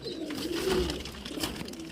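Young powder pigeons, just released, give soft low coos close by, with a faint rustle of movement, in a brief quiet moment.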